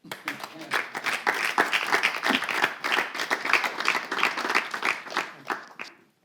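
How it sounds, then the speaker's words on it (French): A crowd claps and applauds steadily for about six seconds, dense, close hand claps, then stops abruptly. "applaudissez pour moi"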